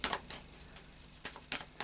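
Quick riffling bursts of a deck of oracle cards being shuffled, several short crisp flurries separated by brief pauses, close by.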